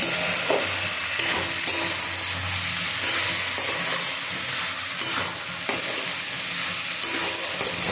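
Spices fry in a pan while being stirred into vegetables for a vegetarian dish: a continuous hissing sizzle broken by regular scrapes and knocks of the spoon against the pan, close and with no talking.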